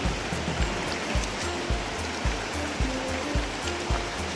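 A creek with very cold water rushes and babbles steadily in the foreground, a broad continuous wash with faint pulsing beneath it and no talk.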